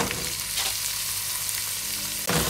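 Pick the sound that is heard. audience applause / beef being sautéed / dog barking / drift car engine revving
beef being sautéed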